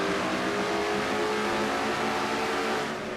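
A Ford race car engine at North Wilkesboro Speedway in a NASCAR racing video game roars at high RPM, a loud, dense and continuous drone throughout with no voices.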